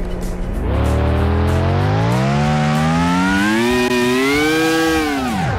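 A car in Car Mechanic Simulator drifts with a loud, sustained engine whine that climbs steadily in pitch, tires scrubbing underneath as it revs hard, close and alone without talk.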